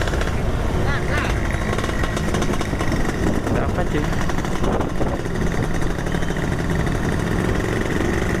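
A Suzuki Satria motorcycle engine runs steadily and loudly close by during a ride, its rough mechanical drone continuous throughout while a rider talks over it.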